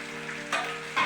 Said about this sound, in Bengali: এবার গাঠি আলু একটু ভাজা ভাজা হোক।